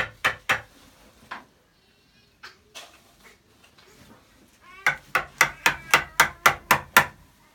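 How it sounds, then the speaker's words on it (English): A hammer being handled and tossed into a trash can: a few isolated sharp knocks early on, then a quick run of about nine close, crisp hits near the end. "Hammer. It's going to the trash can."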